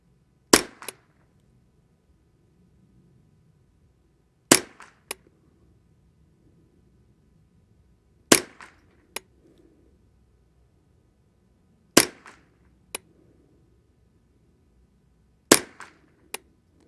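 A Ruger 10/22 rifle firing Exakt .22LR ammunition at an outdoor range with a berm, with five sharp, loud cracks at regular intervals of about four seconds. Each crack is followed by a fainter echo or ring. No one speaks between the shots.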